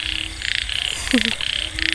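Frogs croaking after heavy rain at night, a big frog giving a short low croak in the middle while a dense, pulsing chorus of other calls throbs steadily behind it.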